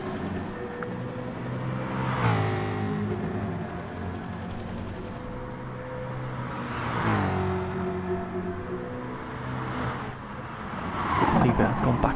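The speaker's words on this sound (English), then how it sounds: "big drift there through that left-hand elbow" A supercar in the GT Sport video game drifting through a left-hand corner at Bathurst, a droning engine with rising and falling tones and brief tyre squeal, under continuous commentary.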